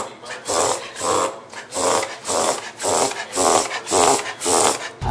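A small Chihuahua makes repeated rhythmic snorting, rasping breaths, about nine evenly spaced bursts in a row, close up.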